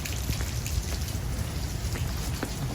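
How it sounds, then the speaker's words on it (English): Rain falls steadily on a town street and on covered tavern tables, a continuous dense hiss with scattered close drops pattering on nearby surfaces. "Extended period of rain today"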